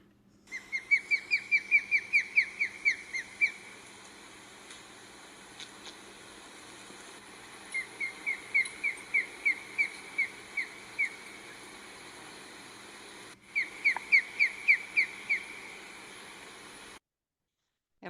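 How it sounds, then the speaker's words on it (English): Osprey calling in a field recording, three bursts of rapid, high, whistled chirps in repeated series, clear and fairly close with quiet gaps between. "Of course, the osprey."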